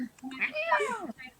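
Cats meowing, one of three cats, a short rising-and-falling yowl with harmonic sweeps lasting about a second, fairly close, with faint background sounds around it.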